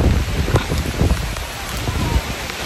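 Rain falls on a windy mountain top as a steady hiss, with gusts rumbling against the microphone and faint talking underneath.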